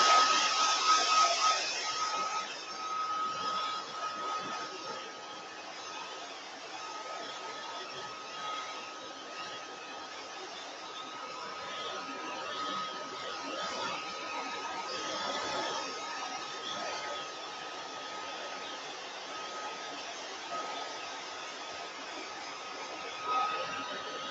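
A hair dryer runs continuously at moderate volume, a steady airy hiss with a faint whine, slightly louder at the beginning.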